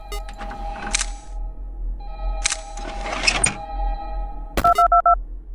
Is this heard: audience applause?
no